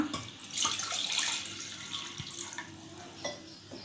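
A small pot of water is poured into a pressure cooker while boiling corn. A close, steady gushing splash runs for about four seconds, swelling and easing slightly, with no talking.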